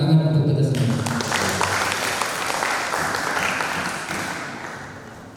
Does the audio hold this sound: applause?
yes